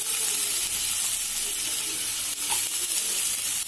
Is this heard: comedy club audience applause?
no